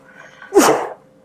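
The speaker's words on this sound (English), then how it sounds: "I started sneezing like it was like fucking allergy season" A single loud, sharp sneeze close by, a quick burst after a faint intake of breath.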